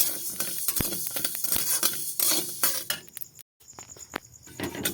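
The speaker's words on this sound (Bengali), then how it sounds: "এই ধনে আর মৌরিটা একসঙ্গে ভেজে নেব" Coriander and fennel seeds fry in a pan with close, dry crackling and sizzling. Scattered sharp utensil scrapes and clicks cut through, with a brief dropout near the end.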